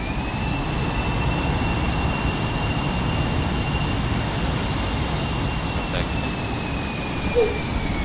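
Jet engines whine steadily as an aircraft taxis in a flight simulator game, with a loud broadband roar and sustained high-pitched tones throughout, unbroken for several seconds.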